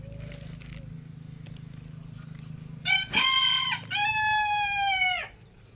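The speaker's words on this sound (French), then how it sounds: "Ça, c'est les poules, enfin le coq, les poules." A rooster crows loudly and close by in a henhouse, two long drawn-out calls near the end, after a stretch of low hen clucking and shuffling in the background.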